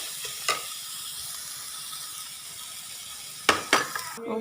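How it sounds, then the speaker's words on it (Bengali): Sautéed leafy greens (saag) fry in a pan with a steady low sizzle, broken by a few sharp scraping or clinking stirs near the start and near the end. "শাক ভাজি করা হয়ে গেছে"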